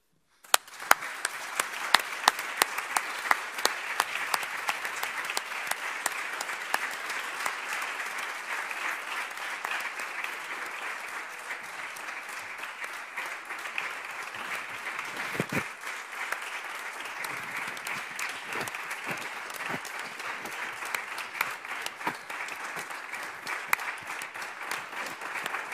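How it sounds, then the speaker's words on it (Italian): Warm, steady applause from an audience at a memorial gathering, dense clapping sustained for about twenty-five seconds at moderate, even loudness, with a few louder individual claps standing out. "all'applauso caloroso e cordiale che seguirà, tu non potrai sottrarti"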